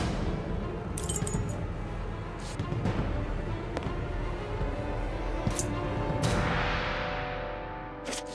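Keys jangle and clink in bursts over a steady background hum in The Testament of Sherlock Holmes video game, with several brief metallic rattles spread across the scene and no talking.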